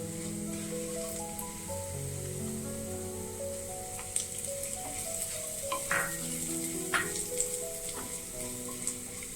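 Onion and fennel seeds fry in oil in a pan for a Kerala koorka (Chinese potato) stir-fry, giving a steady, close sizzle with scattered pops over a faint melodic background.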